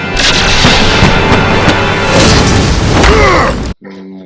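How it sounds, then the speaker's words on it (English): Cartoon explosion from Avatar: The Last Airbender, a man with a metal arm and leg blowing himself up: a loud sustained booming blast with rumbling debris, then a sudden cut to a short quieter sound at the end. "So you get one little knock in the head and then you blow up yourself."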